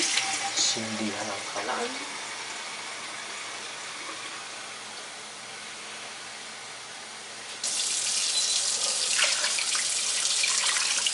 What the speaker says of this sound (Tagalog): And then, put some water.